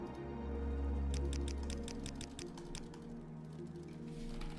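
A rapid run of light, close clicks on a computer keyboard or mouse while playing Morrowind, sitting over a steady low hum of game sound.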